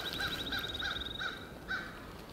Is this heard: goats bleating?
no